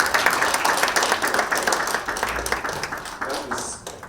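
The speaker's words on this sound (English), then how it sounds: "let's give the Director another clap" An audience at a strategy launch event claps together for a speaker for a few seconds, a dense patter of applause that gradually thins out.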